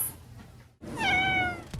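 A cat meows once at a cat café, a clear, fairly close, rising-and-falling call heard after a soft rustle and a brief silence.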